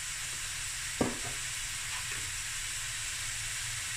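Curry leaves dropped into hot oil crackle with a sharp burst of sizzle, then settle into a steady, close frying hiss with a few faint pops, no voices.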